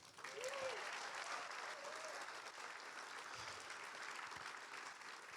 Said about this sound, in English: Can I please have a big round of applause for my sister?